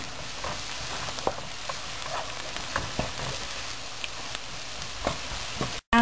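Onion with turmeric and paprika fries in a pan while being stirred, giving a close, continuous sizzle with small crackling pops and spoon scrapes, then cutting off briefly at the very end.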